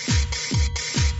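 A dull, boomy drum machine kick with a snappy noise burst, repeating three times in a steady loop, dry and up close.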